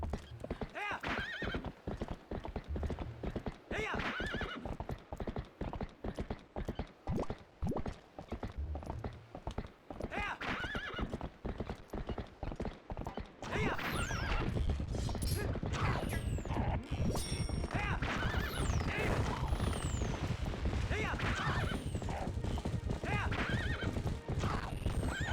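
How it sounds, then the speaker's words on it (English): Epona, a horse in the video game The Legend of Zelda: Twilight Princess, gallops with rapid, steady hoofbeats and gives loud whinnies throughout, with game music and effects behind and denser, louder action in the second half. "How dare they hit my horse? No one shoots Epona"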